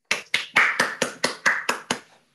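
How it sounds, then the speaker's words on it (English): About eight sharp claps in a quick, even rhythm come through an online video call during a lecture series, close and dry with each one ringing briefly before the next, then stopping. "join me in giving him a round of applause"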